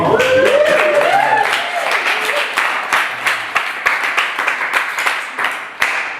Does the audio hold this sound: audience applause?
yes